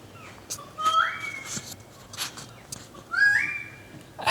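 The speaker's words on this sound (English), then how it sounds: "Today I'm grateful for this bird. The noise that he's making is so nice." A single bird sings outdoors in two short bursts of rising, whistled phrases, clear and fairly close against a quiet background.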